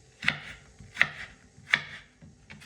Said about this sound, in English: we're going to cut them in strips, like this